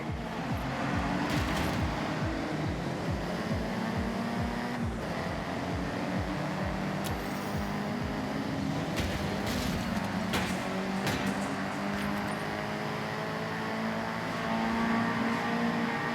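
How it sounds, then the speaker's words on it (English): Convoy of Nissan cars of all shapes and sizes driving in Forza Horizon 6 near Daikoku, with steady engine hum and revving, several brief passing swells and clicks over a continuous moderate drone, no voices. "I call this convoy nothing but Nissan, for obvious reasons"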